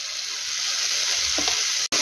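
Boiled mango stirred with turmeric and salt in a pan for a Bengali aam jhol, a steady sizzling hiss with a few soft scrapes of the spoon, brief dropout near the end, no voices.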